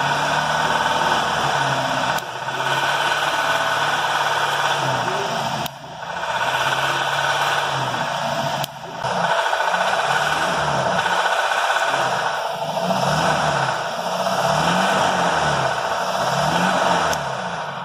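A BMW engine, formerly knocking, runs at a close, steady idle with a few light throttle blips and brief dips in between, the rattly beat now gone; no one talks.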